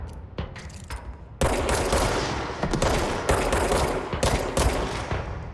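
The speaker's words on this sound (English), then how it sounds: "What are they shooting at, though?" Sustained automatic gunfire from a firefight in the video game Control, dense overlapping bursts that swell louder after the first second and continue as a steady, chaotic barrage with sharp peaks.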